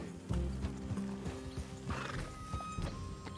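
Horses in the Western video game Red Dead Redemption 2 clop steadily on the ground and give a short neigh. The sound is layered over a busy game soundscape with a low background drone.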